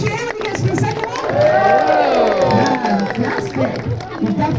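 An audience at a sea lion show in a safari park breaks into loud, sustained cheering and whooping as the animal performs, with an announcer talking over the crowd noise.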